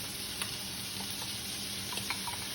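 Lemon, pepper, onion and garlic hit a very hot, smoking pan and fry with a steady, close sizzle, with faint stirring clicks now and then and no talking.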